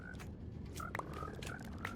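Frogs croaking in Minecraft, a few short bubbly croaks and chirps over a dense low background hum, closely spaced across a couple of seconds.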